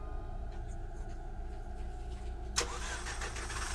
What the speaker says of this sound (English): Where is the car sound from?